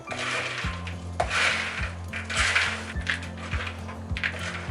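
Italian sausage stuffing with butter and sausage juices is mixed in a dish, making a close, regular series of dull knocks and scrapes, about two per second.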